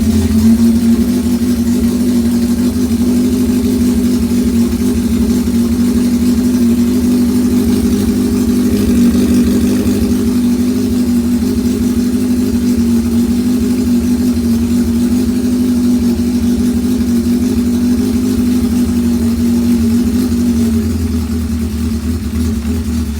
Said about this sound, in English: let's go ahead and let's start the bike